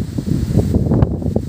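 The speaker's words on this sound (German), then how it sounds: "Bei uns herrscht heute ein starker Wind." Strong wind blows around a house in Hungary, a loud, gusty rush and rumble of air buffeting the microphone in uneven surges, close and continuous with no voices.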